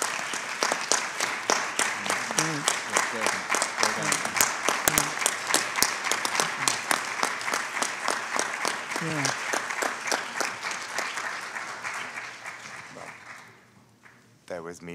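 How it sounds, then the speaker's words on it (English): An audience claps steadily after a talk on the death penalty, poverty and access to legal representation. The dense, sustained applause tapers off near the end. "don't feel the need to applaud, but that was very hard not to"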